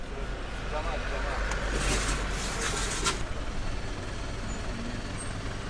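Kathmandu street traffic with trucks and engines rumbling close by, a steady low motor drone with a hiss of air brakes in the middle, while people talk over the noise.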